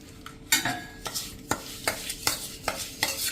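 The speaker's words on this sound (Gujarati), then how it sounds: "અને હવે આ રીતે આપણે બધું જ મિક્સ કરી લેવાનું છે" A spoon scrapes and stirs through a thick mango pickle masala with extra oil added, giving a steady run of roughly eight close, wet scraping strokes in an uneven rhythm, with no talk.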